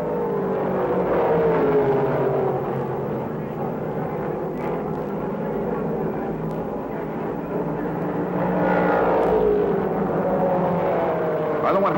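Race cars roar around an oval track at the 1968 Oswego International Classic, a steady, loud blended engine drone that swells and fades slightly as the field passes, with a narrator talking over it.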